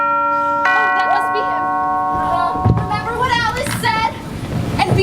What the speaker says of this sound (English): that's the first time that doorbell has rung since Halloween